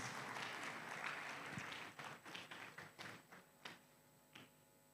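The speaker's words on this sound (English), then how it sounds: "let's clap for Dr. Lydia doing so well at Obuasi campus" A conference audience applauds at a closing award ceremony on a university campus, steady clapping at first that thins into scattered, separate claps toward the end.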